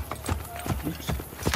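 Horse hooves clip-clop in the Assassin's Creed: Brotherhood game, a quick, uneven run of close hoofbeats at a brisk pace, with a voice sounding faintly alongside.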